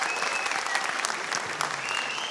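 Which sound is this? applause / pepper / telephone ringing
applause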